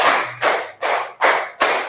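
A group claps hands together in a tight, even rhythm, giving five sharp, loud claps about four-tenths of a second apart with nothing else heard.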